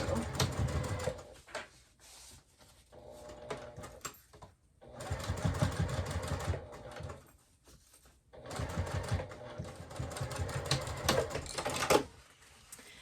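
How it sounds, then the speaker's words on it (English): A sewing machine top stitching a seam on a zippered clutch purse, set to stitch length 4, runs in three rapid, whirring bursts of several seconds each, separated by short pauses, loud and close. "and then top stitch that top seam"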